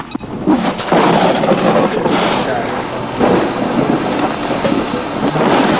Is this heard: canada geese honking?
no